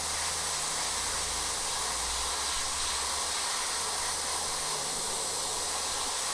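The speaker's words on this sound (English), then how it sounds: "I'm deliberately letting some of that overspray travel." Hissing aerosol spray paint, fluorescent green, misted over the eyes of a custom-painted Labubu figure, a steady close broadband hiss lasting throughout with a low hum underneath.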